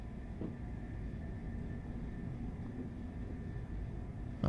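A train rumbles along the track in the Train Life railway simulator game, a low, steady, faint rolling drone that continues without a break and has no talk over it.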